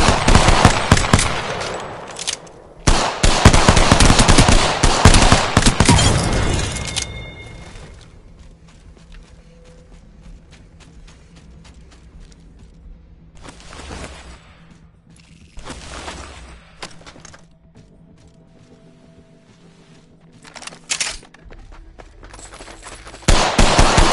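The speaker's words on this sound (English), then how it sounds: "The enemies are shooting at me." Enemy gunfire in a PS4 shooter: loud bursts of rapid automatic fire open the scene, then quieter stretches broken by further volleys and a final burst at the end.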